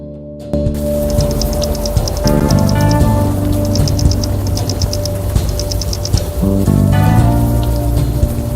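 Steady rain falls in the video game Unavowed, a loud, constant hiss of drops on surfaces with a low ambient hum and faint repeating chime-like tones layered over it, starting after a brief quiet opening.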